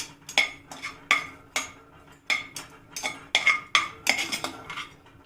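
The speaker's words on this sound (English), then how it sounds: "Just giving it a stir." Dry tamarind stirred in a pan with no oil: a spoon scrapes and clinks against the metal in repeated sharp strokes, close and fairly quiet, with no voices.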